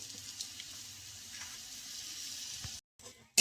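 Grated radish sizzles in a pan as it is fried and stirred, a steady soft hiss with faint stir sounds that breaks off abruptly just before the end.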